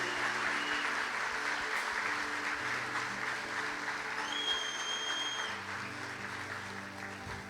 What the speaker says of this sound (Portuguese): Vamos aplaudir Jesus pela vida do pastor